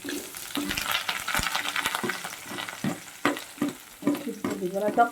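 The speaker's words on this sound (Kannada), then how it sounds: "ಇವಾಗ ನಾವು ಈರುಳ್ಳಿ ಮತ್ತು ಕರ್ಬೇವು ಸೊಪ್ಪು ಹಾಕ್ಕೊತಿದ್ದೀವಿ" Onion and curry leaves are stirred in a hot pan for bitter gourd palya, with busy scraping and clacks over a crackling sizzle that come in uneven bursts, and no speech.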